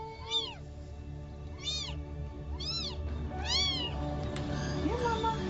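Kittens meow in a steady series of thin, rising-and-falling cries, about one per second, over a low background hum.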